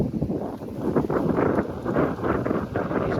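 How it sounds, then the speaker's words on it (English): Steady gusting wind roars close against the microphone, rising and falling in loud rumbling buffets. "It's very windy, I know."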